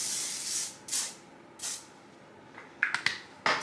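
Hairspray from an aerosol can misted over styled beachy, wavy hair in several short hissing bursts, with a few sharper puffs near the end, fairly close and with no talking.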